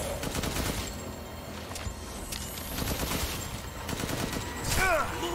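Rapid gunfire from Resident Evil Village, a dense burst of repeated shots over a few seconds with a sharper whine near the end, mixed with game ambience.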